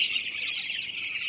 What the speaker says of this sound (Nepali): तर यो चल्लाहरू चाहिँ ठिकै छ, बढिरहेको छ राम्रै